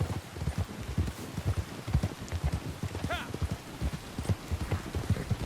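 Horse hooves clip-clop in Red Dead Redemption 2 during a winter endurance race, a steady close rhythmic beat of hoofs running continuously under a low hum.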